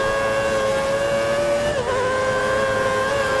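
Formula 1 race car engine in a racing video game, driven on a wet track with a low-downforce setup, giving a steady high-pitched whine that holds loud and close throughout with a brief dip in pitch midway.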